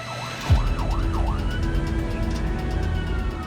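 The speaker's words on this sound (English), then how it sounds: "So we're just going to put the sirens on to make people move out of our way." An Australian ambulance siren wails in a fast repeating up-and-down pattern, loud and close, over steady road and engine noise.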